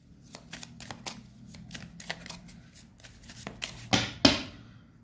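Tarot cards shuffled by hand: a quick run of crisp, riffling flicks in a steady rhythm, close and fairly soft, ending with two louder slaps of the deck.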